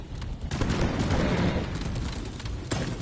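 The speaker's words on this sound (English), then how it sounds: "I call it my grenade." A grenade going off in the mining co-op shooter Deep Rock Galactic: a loud, dense blast with sustained rumbling and crackle across three seconds, with a brief sharp burst near the end.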